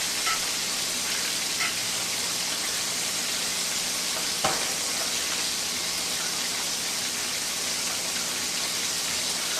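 Butter and minced garlic sizzle in a pan for southern fried chicken, a constant rain-like hiss held at one level throughout, with a single sharp tap near the middle; no voices.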